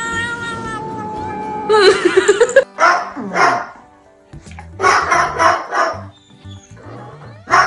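A dog barks and yelps in short, loud bursts, with drawn-out whining or howling calls in between and a brief quiet gap partway through.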